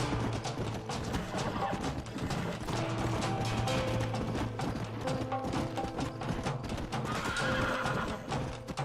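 In the Red Dead Redemption video game, a horse whinnies amid clopping hooves, with rapid hoof beats and clattering over a layered game soundscape at moderate level.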